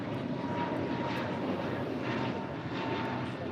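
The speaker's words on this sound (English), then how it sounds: "An A321neo now taking off on 25 right" An Airbus A321neo airliner takes off from runway 25 right at LAX, its engines a loud, steady roar throughout with no voices.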